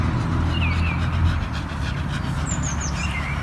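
A dog pants steadily and close in a park, with continuous rhythmic breathing over outdoor background noise and faint birdsong.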